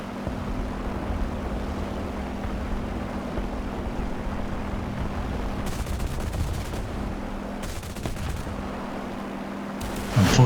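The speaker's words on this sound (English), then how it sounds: "that shot was unable to connect with the enemy" Aircraft gunfire in War Thunder rattles in several short bursts over a constant engine drone and steady hum, the volleys coming at irregular intervals.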